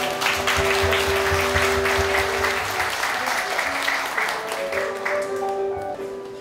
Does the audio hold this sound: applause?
yes